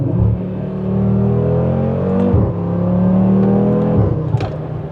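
An Audi RS3 (8Y) fitted with an ECS exhaust, valve closed, accelerates through gears, a loud close engine drone rising in pitch with dips at each of two gear shifts.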